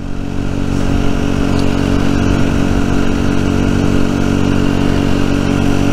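A Rieju Century 125 motorcycle engine running while riding, a loud, steady mid-pitched drone with wind rush that holds at an even pitch throughout, with no voice over it.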